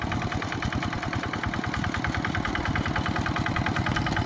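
A tractor engine chugs steadily at idle, a rapid, even knocking pulse close by with no voices.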